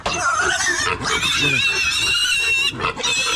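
A piglet squeals loudly and shrilly up close in a few strained, wavering cries with brief breaks, and a voice can be heard faintly underneath.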